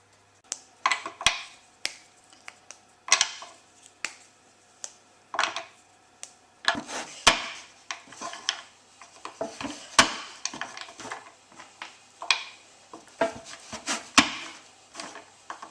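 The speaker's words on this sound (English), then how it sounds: "Measure out 50 grams of milk chocolate and 50 grams of white chocolate and chop them up into small pieces" Milk chocolate and white chocolate being chopped into small pieces on a board, with a run of sharp, irregular knife taps that come in quick clusters, close and crisp, and no talking.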